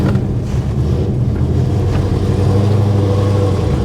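Plymouth Roadrunner with a new exhaust and McLeod clutch driving down the road, a steady loud low engine drone with wind rush heard from inside the car, no talking.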